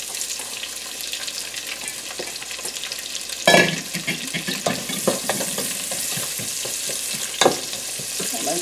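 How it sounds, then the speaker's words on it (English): Chopped onions sizzle and fry in a pan as they are tossed in for kielbasa and cabbage, a steady crackling hiss with a few louder bursts of stirring and scraping. "I'm going to throw in my chopped onions"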